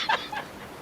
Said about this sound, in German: Oh, da ist eine Möwe.